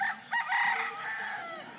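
A rooster crows at dawn in a rural Bohol province, one drawn-out cock-a-doodle-doo heard from a short distance over quiet morning air, with no voices.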